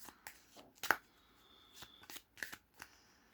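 A Lenormand deck being shuffled by hand: a few sharp, close card flicks and slides in quick irregular succession, quiet and with no talking over them.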